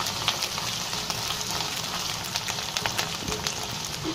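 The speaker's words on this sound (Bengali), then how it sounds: "এখন দিয়ে দিচ্ছি পেঁয়াজ কুচি। ফালি করে কেটেছিলাম কিউব কিউব করে। হালকা একটু ভেজে নেব।" Chopped onion cubes frying in hot oil in a pan, a steady soft sizzle with occasional crackles and stirring scrapes, fairly quiet and without talk.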